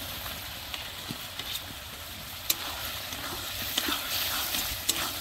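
Spices and fried potatoes for a village-style egg masala curry sauté in a pan, giving a faint, steady sizzling hiss with a few soft ticks scattered through it.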